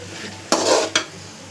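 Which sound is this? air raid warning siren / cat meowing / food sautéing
food sautéing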